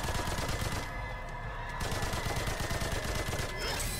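Rapid gunfire from a weapon in the video game Remnant 2 rattles continuously and loudly in quick repeated bursts, mixed with game effects and no speech.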